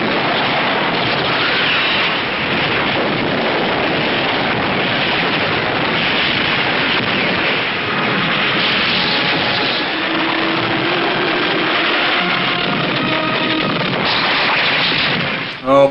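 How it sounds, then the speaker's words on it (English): Explosions and gunfire from the movie Mighty Peking Man form a loud, dense, continuous roar of blasts and rumble that fills the whole stretch without letup. "The army also rigs the building with explosives, and Sam even gets shot too."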